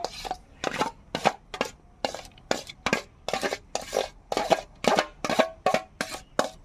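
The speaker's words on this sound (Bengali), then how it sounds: "এইভাবে একটু আবারও ঠুকে ঠুকে আমি সেট করে নেব" Mango pudding plate being tapped repeatedly on a surface to settle it: a steady series of about a dozen sharp, close knocks at an even pace, with no voices.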